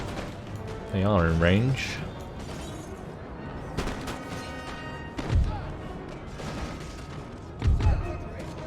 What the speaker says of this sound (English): These guys can actually turn and fire at these chaps.